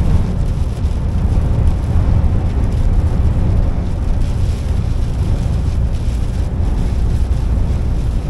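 Loud, constant rushing wind battering the microphone, a broad low roar with no pauses, no voices.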